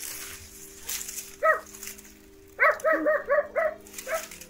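A dog barks close by: a single bark, then a quick run of five or six yapping barks, with a final softer bark, over a quiet indoor background with a faint steady hum.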